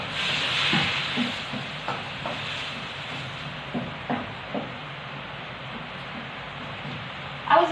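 Sauteed tomatoes, onions and chopped garlic sizzling in a wok, a soft continuous frying hiss with scattered light taps and stirring clatter, ending in a brief louder clank, no one speaking.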